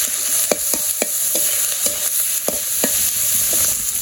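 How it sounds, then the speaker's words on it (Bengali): Skin being stir-fried with turmeric powder and salt in a pan, giving a steady bright sizzle punctuated by quick, regular spatula taps and scrapes, loud and close, with nobody speaking. "তখন কষে নিব চামড়াটা।"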